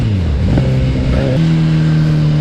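Kawasaki Z900 motorcycle pulling away, the engine note climbing through a rising rev, a brief shift, then holding a strong steady drone, loud and close with no talk.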